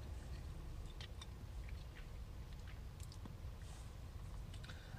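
Fizzy soda-can candy being chewed up close, with scattered small crackles and pops from the candy and wet mouth sounds over a steady low rumble, no talking.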